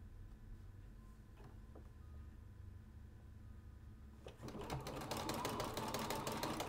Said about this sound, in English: you're going to go ahead and sew